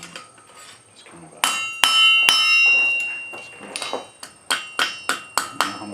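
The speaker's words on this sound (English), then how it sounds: "I don't get to use this little hammer too much" A small hammer strikes metal while an arrowhead is made from an old punch: a run of sharp, ringing metallic taps, a few spaced out at first and then a quicker, steady series, close and clear with no talking.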